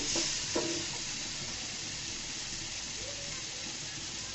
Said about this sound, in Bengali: এই চুলার মধ্যে আমি ফুলকপিগুলো দিয়ে দিচ্ছি, এটা এখানে ভেজে নিচ্ছি